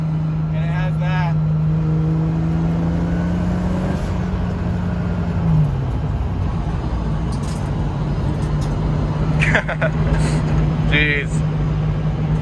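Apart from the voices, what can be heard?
turbocharged car engine accelerating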